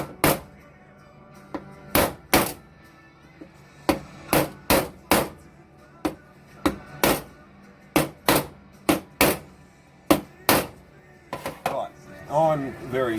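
The back of a socket tapped against a part on a TTR250 big-bore 325cc motorcycle build to seat it; sharp metallic knocks, single and in quick pairs, close and loud, with faint rattling at the end.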